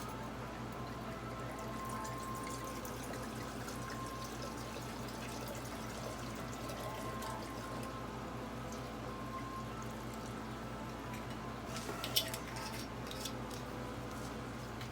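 Vodka, about 500 ml, poured into a bottle, giving a steady liquid stream over a constant background hum, unbroken for the whole stretch with a brief clink near the end.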